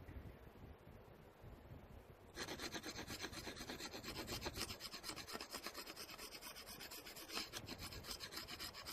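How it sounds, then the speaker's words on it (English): Rough, rhythmic rasping strokes scrape material from the limb of a wooden survival bow, close and steady, starting quietly and then growing louder and denser midway through. "Still needs a little bit more material off here, another scraping"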